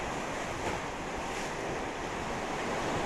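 Ocean waves wash into sea caves on a rocky coast at Arica, a continuous broad surf roar mixed with wind buffeting the microphone, no voices.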